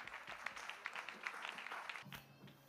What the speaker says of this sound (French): Oui, acclamez, acclamez.